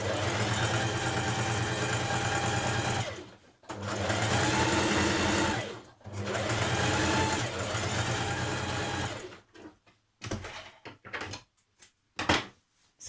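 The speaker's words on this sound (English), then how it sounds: "we're going to stay stitch around the neck edge, starting from here" A sewing machine stay-stitches around the neck edge of a coat made from a Simplicity 1254 pattern. Three long, steady runs of close, even motor hum are followed by brief clicks and handling noises.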